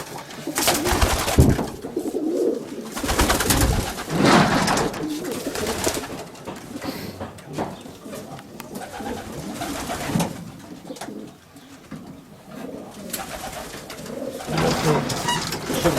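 Show pigeons of the Polish extreme breed coo repeatedly nearby, soft throaty calls overlapping with rustling and fluttering, continuing throughout.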